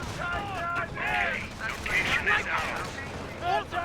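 BAR automatic rifle fire in a Company of Heroes battle, sustained bursts mixed with explosions and chaotic combat noise, with voice lines from units cutting through.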